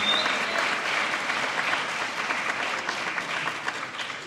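An audience at a staff luncheon gives a sustained round of applause for a panel of five educators, with dense, steady clapping that slowly thins toward the end.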